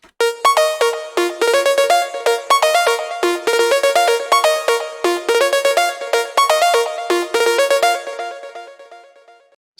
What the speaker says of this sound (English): the main synth sounds like this